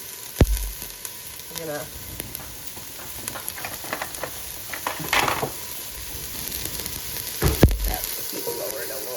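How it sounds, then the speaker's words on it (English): Onions and peppers sautéing in a pan for homemade chicken and rice, with a soft continuous sizzle broken by scraping and stirring clatters and a few utensil knocks, while a person speaks briefly. "we're going to be adding our onions and our peppers"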